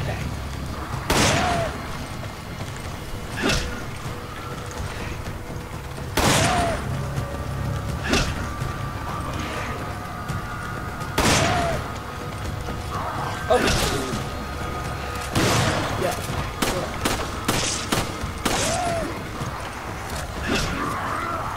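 A Magnum revolver fired in Resident Evil 5 gives sharp, loud single shots spaced several seconds apart, each with a brief ringing tail, while voices talk between and over the shots.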